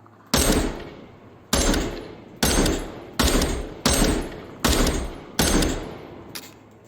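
Seven loud, evenly spaced gunshots ring out one after another in a VR shooting game fired with a gunstock, each a sharp crack with a short decaying tail, with no talking.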